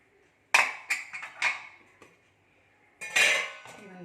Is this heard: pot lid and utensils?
yes